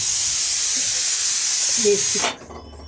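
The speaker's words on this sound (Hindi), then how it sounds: "1 मिनट मैं कुकर में ना सीटी आ गई है, तो उसको मैं सही करती हूँ।" Steam hisses steadily and loudly from a kitchen pressure cooker's whistle, a close, constant rush that cuts off abruptly near the end, leaving quiet room sound.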